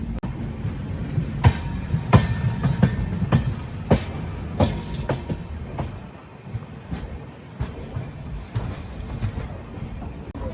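Cocanada Superfast Express train rolling on rails from Kakinada Town toward Lingampalli, diverging from the Howrah–Chennai line toward Tanuku, with steady interior rumble and repeated clickety-clack wheel impacts over rail joints.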